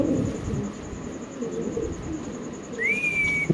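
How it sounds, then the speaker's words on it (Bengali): A Budapest pigeon coos in a series of low, soft, rolling calls, steady and close, with a brief higher whistling note near the end and no talking. "হাতে আছে এক পিস কবুতর মাশাআল্লাহ"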